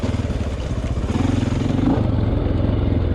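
Honda XR600R big-bore dirt bike engine chugging steadily at low revs during a slow pivot turn on a trail after rain, a loud close rumbling thump throughout.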